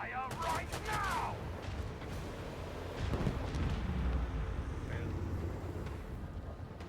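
Ship batteries firing in the space combat game Rogue Trader: a string of heavy booming volleys and rumbling blasts, with sweeping synthetic tones at the start and voices mixed in.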